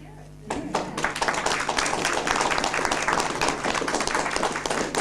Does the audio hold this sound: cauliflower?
no